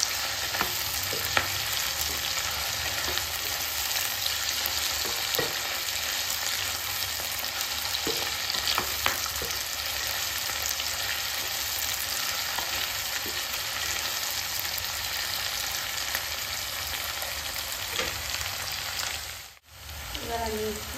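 Chilli chicken frying in a pan, a steady loud sizzle that carries on without a break, with faint stirring scrapes now and then. Near the end the sound drops out briefly and then comes back.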